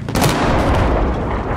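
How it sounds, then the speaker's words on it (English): Mortar fire in Battlefield 4 lands as a loud, booming blast that roars broadband for over a second, close and dense with no voices over it. "I'm gonna mortar them while they're in their spawn still"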